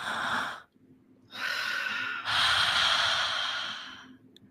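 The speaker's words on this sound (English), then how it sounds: "everybody needs to take a big breath in" Several people take big, deep breaths in together, three long airy inhales in a row with brief pauses between, close and loud, no talking.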